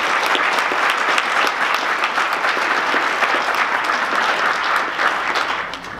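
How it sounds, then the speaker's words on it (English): Audience at a community police meeting breaks into sustained applause, dense clapping that holds steady and loud for several seconds before tapering at the end. "let's everybody give a round of applause for Captain Larkin and everybody in Northwes"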